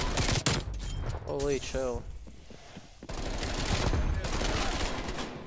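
A Bullfrog submachine gun fitted with an 85-round magazine fires in Call of Duty Black Ops Cold War. Rapid bursts come at the start and a long stretch of continuous fire follows, with a voice briefly exclaiming in between.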